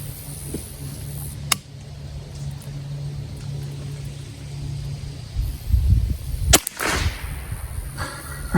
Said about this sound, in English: We're gonna finish off these last 3 shots and see how they group.